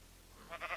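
Sheep bleating in Minecraft, a short blocky in-game bleat that swells twice near the end of the moment, fairly quiet and alone with no talk.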